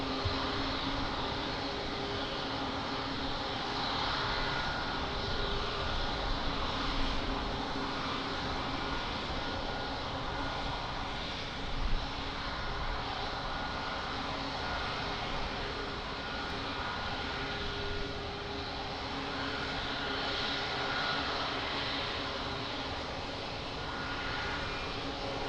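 Aircraft engines roar steadily at Lisbon Airport by runway 02, a broad continuous drone holding at even loudness throughout with no voices over it.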